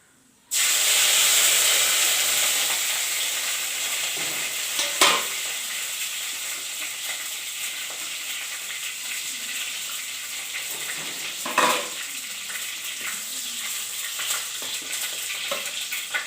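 Curry leaves fry in hot oil in a pan for a fish curry, with a loud sizzle that bursts at once and then settles into steady frying, with occasional sharp crackles and stirring.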